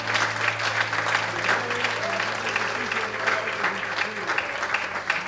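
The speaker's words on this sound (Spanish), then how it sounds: "Vamos, dale un fuerte aplauso al Señor." A church congregation claps loudly and steadily for the Lord during a sermon, a sustained wash of applause with a low hum and faint voices underneath.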